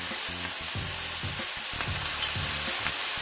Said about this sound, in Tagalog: Dito lang sa kawali na pang grill pan siya.